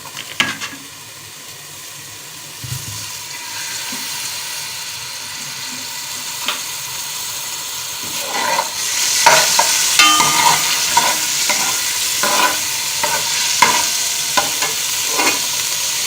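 Half an onion frying in a little oil in a pot, sizzling quietly at first, then swelling into a louder, continuous crackle with repeated stirring scrapes and clinks of a spoon against the pot.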